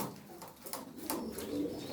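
Pigeons coo softly in a coop of breeding birds, low murmuring calls rising now and then over a faint background with scattered light rustles.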